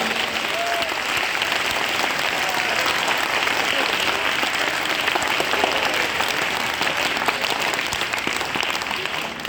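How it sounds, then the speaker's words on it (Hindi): Loud, continuous applause from a large audience at an Arya Samaj Vedic bhajan gathering in Hisar, steady dense clapping filling the whole stretch without pause. "इनके लिए हाथ उठाकर ताली बजाओ जोरदार"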